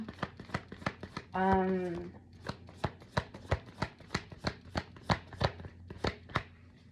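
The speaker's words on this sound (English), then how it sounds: "I want to shuffle these in there" Rapid, evenly spaced tarot card riffles and taps close by, a soft brief swish near the start, then steady rhythmic flicking continuing alone.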